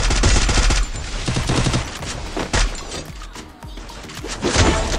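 Rapid bursts of automatic gunfire from a Garena Free Fire ranked clash squad match, loud and dense throughout, with short pauses between volleys and a few heavier thuds mixed in.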